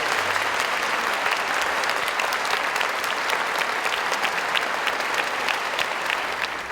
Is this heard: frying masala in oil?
no